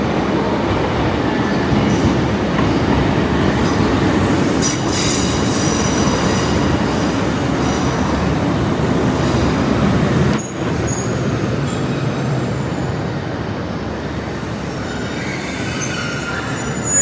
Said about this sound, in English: So I'm going to wait for the 10:58 Northern service and we're going to Blaydon on this train.